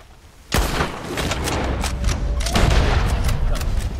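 A sharp gunshot from Red Dead Redemption 2 bursts out suddenly, followed by a second blast a couple of seconds later, with lingering rumbling noise between them.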